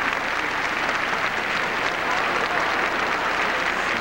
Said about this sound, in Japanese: 3000を超える観衆から大きな拍手